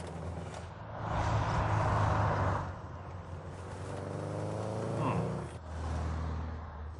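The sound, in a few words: Lancia rally car engine in The Grand Tour Game video game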